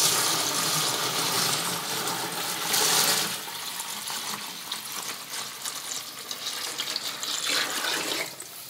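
Fresh tap water rushes steadily into a container to rinse homemade olive oil, a loud continuous gushing that shifts in tone as it fills, easing slightly at the end.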